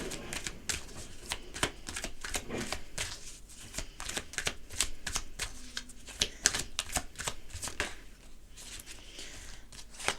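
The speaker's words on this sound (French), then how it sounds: "pendant que je tire les cartes" Oracle cards are shuffled close up in a continuous run of crisp riffling flutters and slaps, repeating rapidly for the whole stretch with no talk over it.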